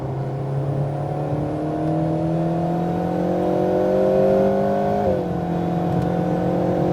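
Alpine A110R sports car accelerating on a race track, a steady engine drone rising smoothly in pitch, then a brief dip at a gear change before climbing again, close and loud with no talk.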